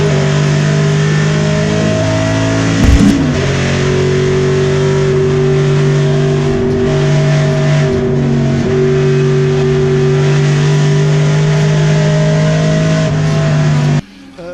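Boss Mustang and Ford Escort race cars at the Goodwood Members Meeting roar loudly and continuously, engines revving hard with steady high-pitched drones and a brief surge as they charge toward a corner.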